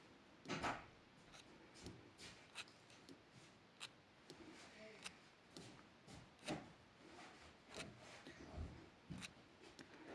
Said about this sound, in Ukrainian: Чутно тільки скрип сірничка по шкараупі.